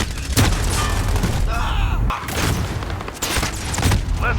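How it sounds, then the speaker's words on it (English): Precision airstrike explosions thunder in Call of Duty: Modern Warfare, several loud close booms and blasts in quick succession amid gunfire, with a voice speaking faintly underneath. "Enemy precision airstrike inbound."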